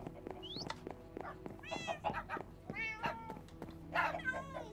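Minecraft video game cat meowing several times in a row, clear, close rising and falling meows spaced about a second apart, with a low steady game background beneath.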